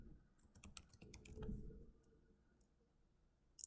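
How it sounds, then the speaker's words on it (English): Quick bursts of typing on a computer keyboard, a cluster of sharp close clicks in the first second and a half, then quiet room tone and one final tap. "So I'm going to type domain."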